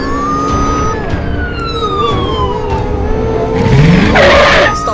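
Rising and falling wails of a toy police car siren sound loud and close through a children's play chase with toy cars, alongside a brief skidding swoop near the end.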